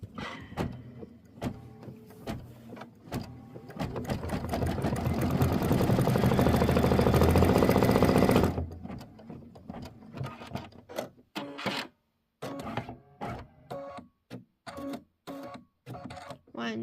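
A domestic sewing machine stitches a quilt block, starting in short bursts, then running in one long steady whirring stretch before breaking into stop-start pulses with small clicks and pauses.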